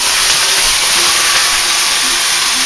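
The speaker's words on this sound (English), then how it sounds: "the olive oil heated up on the cast iron skillet helps to give the hamburger a quick brown" Hamburger meat sears in hot olive oil in a cast iron skillet, a constant broad sizzling hiss, loud and close, running unbroken without pauses.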